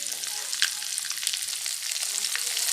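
Garlic and cumin frying in hot oil for a tempering, a dense, steady crackling sizzle with small pops throughout, heard up close and alone.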